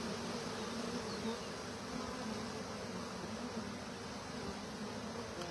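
A giant spring swarm of honey bees, a dense continuous buzzing drone from countless wings, steady and enveloping, heard alone without any voices.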